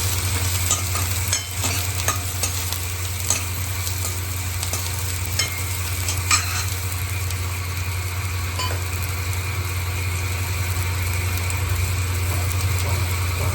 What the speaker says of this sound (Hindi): फ्राई होने के बाद में इसमें बारीक कटी हुई प्याज ऐड कर देंगे और इन दोनों को अच्छे से फ्राई होने देंगे।